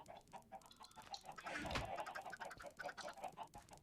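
Chickens cluck faintly in a Minecraft Bedrock chicken cooker farm, quick repeated bird calls layered over one another at low volume.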